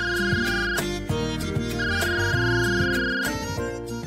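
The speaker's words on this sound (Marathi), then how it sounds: "अगदी फोन वाजतो बघ." A phone ringtone plays loudly and close, a repeating melodic tune with steady looping phrases and no one speaking over it.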